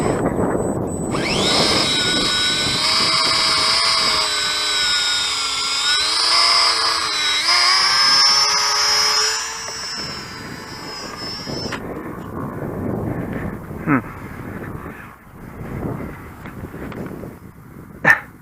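A model biplane, a Jasco Spotter on its maiden flight, drones overhead on reduced throttle with a steady, high, buzzing engine whine that wavers in pitch for about ten seconds. The sound then cuts back to a faint hum with a few sharp knocks.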